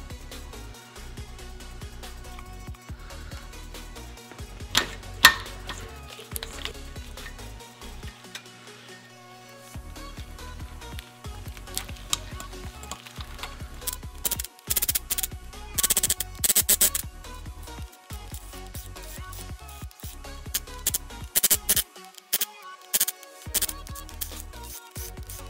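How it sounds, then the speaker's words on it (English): Old gaskets being peeled and scraped off a Subaru EJ25 engine during a head gasket teardown, giving irregular bursts of close scratching and crackling with quiet pauses between. "I love peeling off the gaskets"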